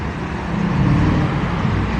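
A BMW 850i passing on a street in Monaco, a steady, fairly loud engine rumble and road noise with no clear rise or fall.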